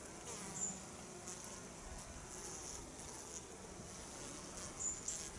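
Honeybees humming in an open, crowded beehive being prepared for winter, a faint continuous buzzing drone with individual bees flying close past now and then.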